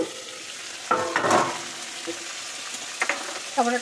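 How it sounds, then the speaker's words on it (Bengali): Softened tomatoes stirred with a metal spatula in a hot pan, giving a low continuous sizzle broken by several distinct clattering scrapes and taps of the spatula against the pan, with no voices. "আমি খুন্তি দিয়ে একটু টমেটোটাকে একদম মিক্স করে দিই"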